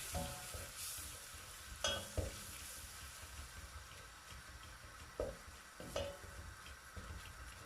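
Soft scraping and stirring as flour roasts in a pot with mixed pepper over a low, steady sizzle, with a few louder scrapes of a spoon against the sides.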